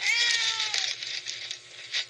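Mushi, a pet cat, gives a clear, close meow that opens loud with a rising, wavering tone, then trails off into softer, fading sound over a low background hum.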